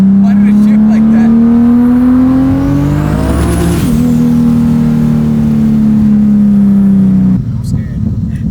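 A Ram TRX pickup accelerates hard with a loud, rising engine drone, dropping abruptly at a gear change before climbing again, then easing off near the end; voices can be heard over it.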